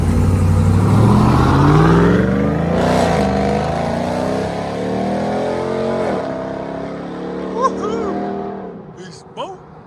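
A 2022 Ram TRX pickup with a 6.2L Hemi engine and aftermarket exhaust revs and accelerates away with a deep, throaty exhaust note that rises in pitch, loud and close, with voices talking over it.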